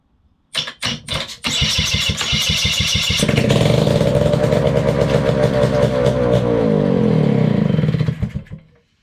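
A homemade engine built for a jet unit coughs through a few sharp firing pops, then catches and runs steadily with a loud, fast, buzzing rattle before cutting out near the end.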